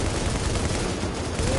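Sustained suppressing gunfire in The Division shooter game, a dense, continuous burst of rapid shots filling the short moment at steady loudness.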